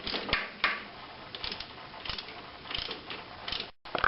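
A ratchet clicks as a starter motor bolt is driven in on a VW Passat, with short bursts of metallic ratcheting, pauses between them, and nearby workshop clatter.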